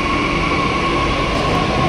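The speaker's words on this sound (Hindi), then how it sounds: "ये देखो कैसे भरी हुई है मेट्रो सारी। दिल्ली में मेट्रो में ऐसे ही रश रहता है बहुत ज़्यादा यार।" Crowded Delhi metro train at Tilak Nagar station, a steady loud rumble of rolling carriages with constant broadband rail noise throughout, no voices.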